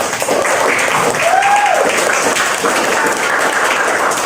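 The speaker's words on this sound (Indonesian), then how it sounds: "tepuk tangan." Steady applause from a classroom of teachers in an Indonesian teaching session, sustained and fairly loud for several seconds with a faint voice passing briefly through it.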